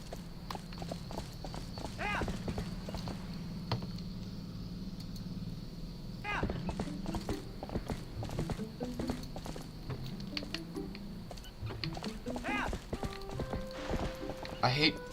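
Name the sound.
horse Epona galloping hooves, Twilight Princess video game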